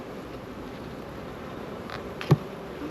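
Honey bees droning steadily at an open hive during an inspection, a low continuous buzz with one brief louder burst close by near the end.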